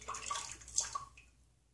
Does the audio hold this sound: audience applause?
no